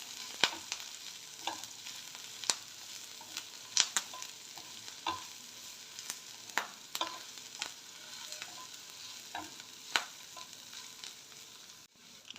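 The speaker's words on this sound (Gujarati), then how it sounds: "હવે એને થોડું સાતળવાનું." Curry leaves, a small green chili and onion sautéing in a pan while being stirred: a steady soft sizzle with frequent scraping clicks of the spoon, close and moderate in level, with no voices.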